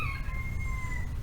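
A roaming neighborhood rooster crows once, a clear drawn-out call at moderate distance over a low rumbling background.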